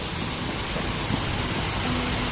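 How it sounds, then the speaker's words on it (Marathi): A waterfall in Gujarat gives off a continuous, even rush of falling water. The sound is loud and unbroken for the whole short stretch. "तुम्ही धबधबा देखशाल अप्रतिम धबधबा"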